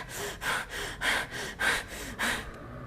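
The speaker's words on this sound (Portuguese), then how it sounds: "nós trazemos uma respiração mais curta e rápida" Someone takes short, rapid breaths high in the chest, about five quick close-up inhale-exhale cycles in an even rhythm, then stops.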